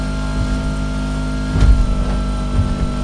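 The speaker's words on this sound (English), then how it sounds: "Is it just me or in first person can you hear like the engine making a really weird like noise?" A car engine in GTA 5, heard from first-person view, drones loudly and steadily with a thin high-pitched hum over the low rumble and a slight surge partway through.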